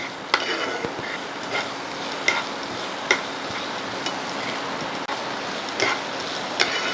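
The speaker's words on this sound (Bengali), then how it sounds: "কাঁচা লঙ্কা সব একটু তেলের মধ্যে ভেজে নেব" Green chillies frying in hot oil give a steady, close crackling sizzle with scattered sharp pops throughout.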